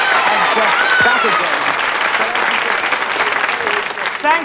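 A UK game show studio audience breaks into loud, sustained applause that holds steady and close for several seconds.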